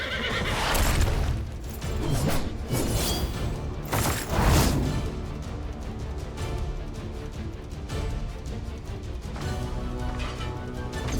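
A horse in the video game Stranger of Paradise: Final Fantasy Origin whinnies loudly and close, two strong neighing bursts near the start, followed by softer hoof clops and game effects.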